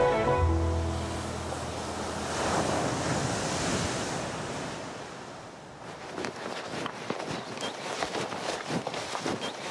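Surf on an oyster-farming coastline rolling in as a steady broad wash, with wind buffeting the microphone, then choppier crackling breaks and splashes near the end, no voices.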